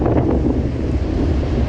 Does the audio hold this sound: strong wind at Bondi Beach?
yes